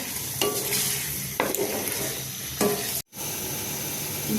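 Potato and radish being sautéed in a pan: a soft, continuous sizzle broken by three scraping stirring strokes, then a brief drop to near silence before the sizzle resumes.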